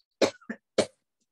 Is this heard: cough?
yes